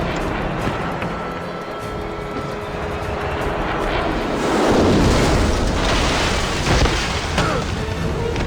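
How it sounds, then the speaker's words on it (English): A helicopter approaches in the video game James Bond 007: Blood Stone, its steady engine and rotor roar swelling louder midway, with deep booms mixed in and no speech. "Helicopter inbound."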